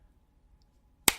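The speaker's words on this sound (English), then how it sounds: "I'm going to clap" A single sharp hand clap rings out once near the end after a near-silent pause, close and crisp.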